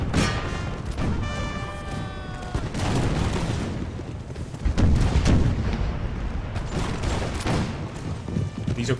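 Cavalry carbine volley fire in the video game Imperial Splendour, Russian campaign: crackling shots in rapid bursts, a heavier booming volley midway, layered battle noise and brief tonal cues, with a voice speaking at points.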